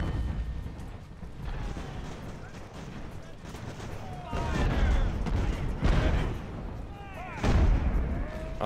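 Cannon fire from sailing warships in the naval battle game Ultimate Admiral: Age of Sail, heavy booming volleys rolling together in dense bursts with a constant battle din beneath.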